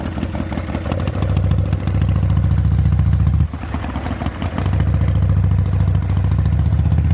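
A Harley Davidson FXR motorcycle engine running close by, a loud rumbling low throb with lumpy pulses that briefly drops off mid-way before picking back up, no talk over it.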